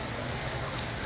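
Steady rain falling in Srinagar, a dense even hiss of drops on surfaces that holds constant and fairly loud throughout the short stretch.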